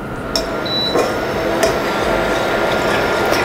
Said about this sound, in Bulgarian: пускам котлона на умерена степен